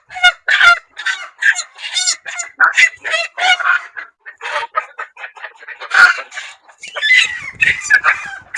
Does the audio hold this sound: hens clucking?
yes